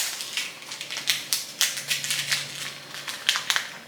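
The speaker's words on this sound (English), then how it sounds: "now I'm going to put a barrel swivel on here" Small crinkly crunches and clicks close by, in quick irregular bursts as a barrel swivel is fitted onto fishing line during a rod and reel setup.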